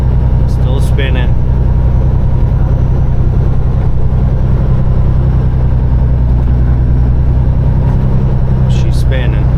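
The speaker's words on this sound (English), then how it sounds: "See if we can make it up this hill. We're spinning hard." Heavy low engine rumble from a Peterbilt 389 truck climbing a snowy hill with its wheels spinning, a steady loud drone from inside the cab with a few faint squeaks.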